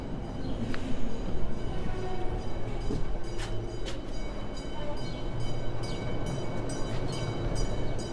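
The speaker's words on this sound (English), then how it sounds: "train's coming" A train passes near the Calumet Theatre, a steady broadband rumble of rolling wagons with scattered clicks and short squeals running through the whole stretch, fairly loud and continuous.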